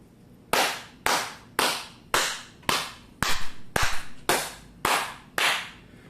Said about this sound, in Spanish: Vamos a aplaudir para ver cuánto es el nivel de reverberancia que tiene este espacio.